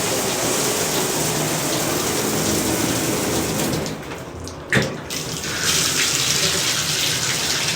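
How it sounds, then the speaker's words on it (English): A household tap runs steadily during a home inspection plumbing test, a loud continuous gush that dips briefly near the middle before resuming at full strength. "I will let this water keep running for 30 seconds."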